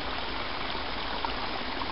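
Water in a small creek flows steadily with a constant rushing, trickling wash, close and even throughout, with no voices.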